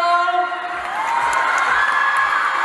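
A concert crowd at a live singing performance cheers and claps loudly, with high shrieks and whoops over continuous applause.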